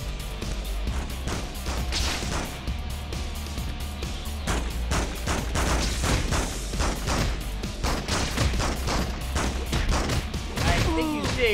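Video game gunfire in Spider-Man 2, rapid bursts of shots and impacts over a continuous low rumble of game ambience, with brief voices in between.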